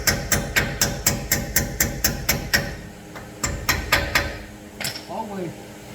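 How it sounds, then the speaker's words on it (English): A hammer strikes metal in a quick steady series of sharp taps during a brake pad replacement, pauses, then lands a few more scattered blows. "I can use the hammer."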